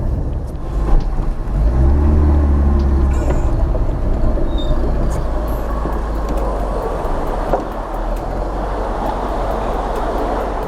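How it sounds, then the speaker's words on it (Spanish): A 1987 Seat Ibiza with the 1.5 System Porsche engine drives along a bumpy country road, its low engine note droning steadily with road rumble and cabin rattles, loud and close throughout. "El motor admite larguísimas estiradas y empuja muy bien arriba, con un sonido a mi juicio precioso."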